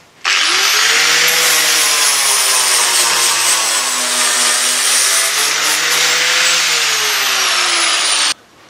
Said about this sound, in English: I'll tidy it up now with the flap wheel.